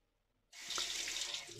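Water from a tap starts abruptly and runs in a steady, close hiss after a moment of quiet, with no voices.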